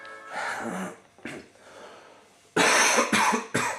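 A person coughs a few times, first muffled and softer, then a louder burst of three harsh coughs close to the mic.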